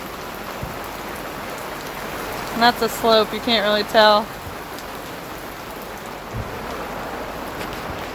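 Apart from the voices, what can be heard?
rain falling on tent while camping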